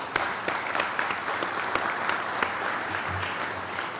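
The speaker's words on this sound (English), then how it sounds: "Could we have a round of applause for those two groups, please?" Applause from an audience at a school event in a hotel ballroom, a moderately distant, even patter of many hands with a few sharper individual claps standing out.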